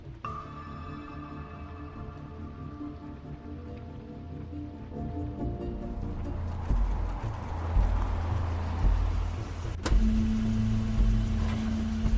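In the game The Wolf Among Us, a car arrives with a low engine rumble that swells over a rainy ambient background, with a clunk partway through as it draws near.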